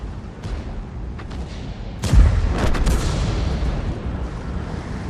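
A World of Tanks artillery shell is fired at a Type 4 heavy tank, a sudden loud boom followed by a rumbling blast and a lingering low roar, with no voices.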